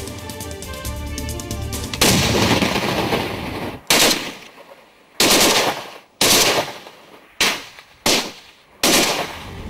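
Heavy gunfire from a Pakistani ceasefire violation along the Line of Control, opening with a sustained roaring barrage, then a series of five or six separate loud bursts with sharp onsets and decaying tails, close and powerful, with no talk.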